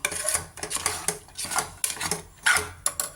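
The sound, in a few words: stirring sweet pongal with jaggery syrup in a pot on the stove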